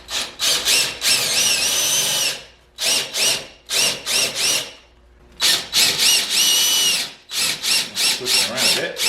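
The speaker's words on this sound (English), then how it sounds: "Now we've just got to drill our holes." A power drill bores holes in the front outer rocker panel of a Mercedes W109, whining in short, loud repeated bursts with brief pauses between them.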